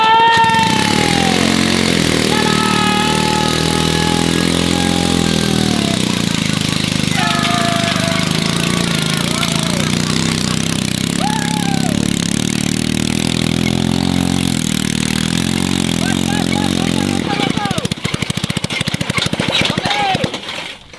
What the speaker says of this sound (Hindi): भाई लोगों तोप के अंदर इंजन भी फिट हो गया है और ये अच्छे से चल भी रहा है